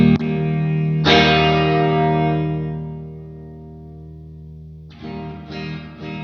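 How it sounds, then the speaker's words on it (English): A Fjord Fuzz guitar pedal played against reverb: a thick, sustained fuzzed chord rings out and slowly decays with a reverb tail, then fresh distorted strums return near the end, with no voices. "Let's hear the whole thing against just the reverb alone."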